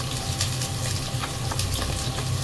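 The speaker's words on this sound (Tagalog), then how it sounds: "Ihalo natin yung ating bawang." Chopped garlic sizzling in hot oil left over from lechon manok, a steady dense crackle and hiss at close range with no talk over it.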